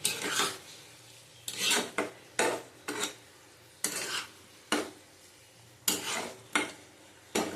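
Pointed gourd and potato stir-fried with cumin in a pan, a spatula scraping and stirring in repeated close strokes over a soft sizzle, with brief pauses between.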